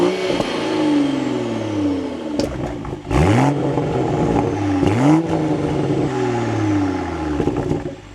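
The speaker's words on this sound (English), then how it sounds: "We will start this up where we can put it into neutral with my foot on the brake and the clutch." 2026 Toyota Supra Final Edition engine revving up close, with repeated sharp throttle blips that rise in pitch and then settle back to idle, heard alone without talk.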